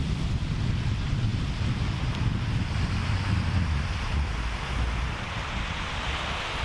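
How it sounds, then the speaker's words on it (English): Steady roar of ocean surf washing onto Hanamaulu beach, Kauai, Hawaii, loud and continuous with gusty wind buffeting the microphone, no voices. "Just to enjoy the sound of the ocean here."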